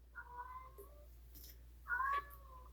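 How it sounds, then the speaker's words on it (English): A cat meows at a door, two clear, close meows about a second and a half apart in a quiet indoor space. "is meowing at the door all the time now, wanting to go down there"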